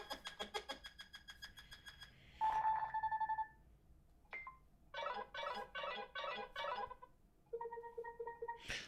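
A custom Nothing Phone 2 ringtone made of quirky electronic tones: rapid chirps, warbling bursts, and a repeating pulsing pattern, played close and clear without talk.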